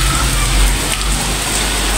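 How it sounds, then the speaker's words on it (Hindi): Heavy pouring rain during a severe storm makes a dense, steady wash of noise, loud and close, with no speech. "बहुत ज़्यादा बारिश है, बहुत शदीद बारिश है"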